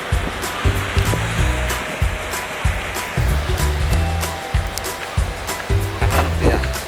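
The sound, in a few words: ocean waves breaking on a Bali beach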